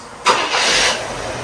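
A carbureted Chevelle engine cranks briefly and catches, a short rising burst of starter noise settling into a steady running hum, fairly close.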